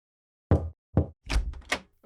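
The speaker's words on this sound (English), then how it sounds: "the King knocked on the General's door" Knocks sound on a wooden door: two separate thuds, then a quicker cluster of raps, close and dry with silence between.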